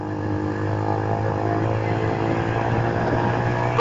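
A Yamaha Fazer 150 motorcycle fitted with a sport exhaust, carrying a passenger, runs steadily with a continuous low droning engine note and even tone throughout, close and fairly loud.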